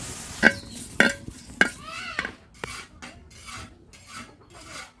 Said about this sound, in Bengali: এবার কাঁচামরিচ ভেজে নেবো